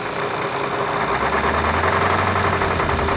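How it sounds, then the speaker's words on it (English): An old Soviet off-road vehicle engine idles without pause in extreme cold, loud and close, its low rumbling throb unchanging throughout. "At last, car is working."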